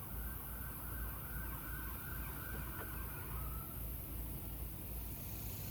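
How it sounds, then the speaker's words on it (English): Police car siren down the street, heard from a distance after a fire truck and ambulance passed: a faint wailing tone buried in steady traffic and street rumble, fading partway through with no talk. "Now we got the sheriff down there, and now here comes another police car"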